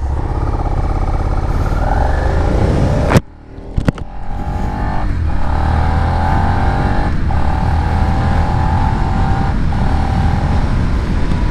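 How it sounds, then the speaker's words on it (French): Suzuki SV650 Sport Edition 2017 V-twin motorcycle engine heard from the rider's position, a loud steady drone that briefly drops off around a gear change, then climbs again through several rising revs with wind noise. "Et moi j'aime bien le bruit des bicylindres en V."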